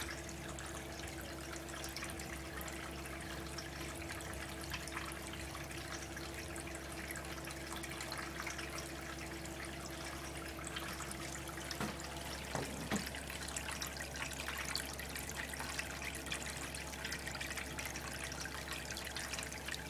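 A Topsflo solar pump circulates water in a sunlit aquarium, giving a steady, soft trickling and gurgling flow over a constant low hum, continuous and even throughout with no talk.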